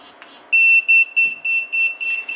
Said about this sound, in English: Lights with the beeper,